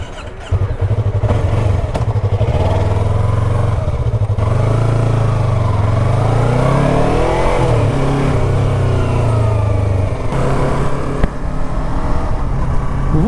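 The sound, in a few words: motorcycle riding through the city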